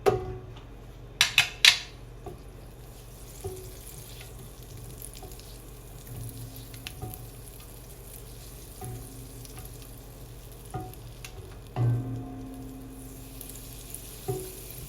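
Butter melts in a pan for meatballs, giving a quiet, steady sizzle beneath a few clinks of utensils against cookware and occasional soft scraping.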